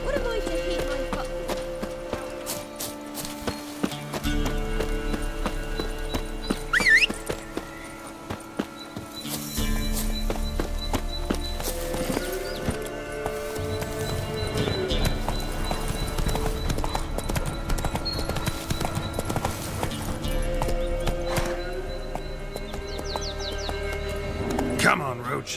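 Hooves of Roach, the horse in The Witcher 3: Wild Hunt, clip-clop steadily through the game's forest at a rhythmic gait, over music and ambient sound, with occasional voices talking.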